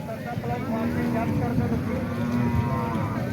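Cattle and buffaloes at a large livestock market in Gujrat, with a sustained low moo rising over a dense background of crowd chatter and market noise.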